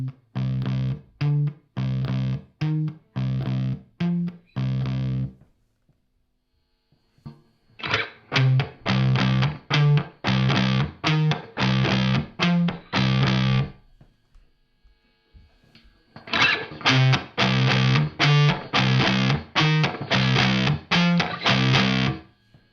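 Electric guitar through a Red Rox distortion pedal playing chugging riffs in three bursts separated by short pauses, loud and close, with a crunchy overdriven tone.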